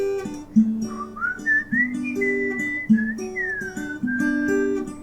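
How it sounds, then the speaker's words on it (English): Whistled melody of a Frozen II song, a clear solo whistle running through rising and falling phrases over steady finger-picked guitar chords, close and moderately loud with no talking. "I go straight from this part into the whistling."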